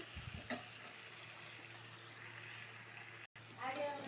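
Rice fries in a pan with spices for a ghee bhog-rice dish, giving a steady soft sizzle with occasional stirring scrapes and a brief gap near the end, while a voice talks over it.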